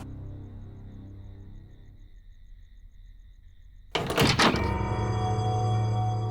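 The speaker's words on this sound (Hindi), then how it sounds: "दरवाजा बंद कर दो।" A door shuts with a sudden solid thunk in a quiet room in a TV drama scene, followed by a lingering tonal hum after the impact.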